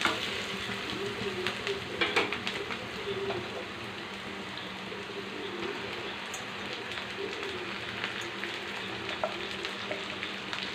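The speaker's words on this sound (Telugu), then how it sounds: "ఇప్పుడు వేగిందండి ఉల్లిపాయ, ఇట్లా వేగితే చాలండి." Onion and chicken sizzle and fry steadily in a pan for chicken fry, a soft continuous crackle with occasional louder pops, close and fairly quiet with no talking.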